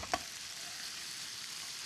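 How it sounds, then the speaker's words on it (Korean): Marinated bulgogi beef sizzles faintly in a pan, a soft steady frying hiss after one sharp click at the start. "차칼차칼 고기가 익는 소리."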